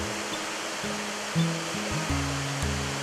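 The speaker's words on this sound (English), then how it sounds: "In Sri Lanka, you can find gorgeous waterfalls such as the Dialuma" A waterfall in Sri Lanka roars in a steady, dense rush of falling water, continuous and fairly loud, with soft low musical tones running beneath it.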